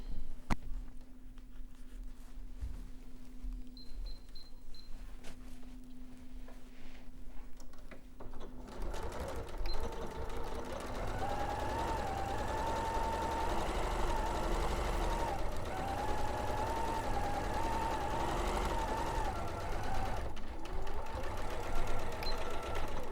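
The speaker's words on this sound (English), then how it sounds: "we're going to stitch down this seam" A sewing machine runs steadily while stitching down the back seam of a garment body, a continuous mechanical whir with a rhythmic needle hum that starts partway in and holds close and even to the end.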